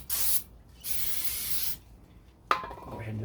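Brake cleaner hisses from an aerosol can onto the brake rotor of a 2016 Subaru Crosstrek in two close, sharp bursts, followed by a brief clack.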